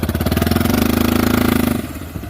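A turbocharged Yamaha Big Bear ATV engine runs hard with a rapid pulsing drone and a rising turbo spool whine, loud and close, then drops off sharply near the end.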